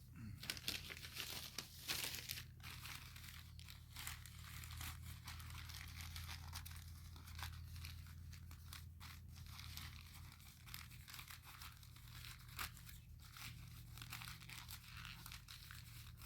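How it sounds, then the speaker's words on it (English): A single sheet of paper is crumpled by hand to pack a homemade firestarter, giving a close, continuous crinkling and crackling that runs steadily throughout with no talk. "One piece of paper, crimple it up."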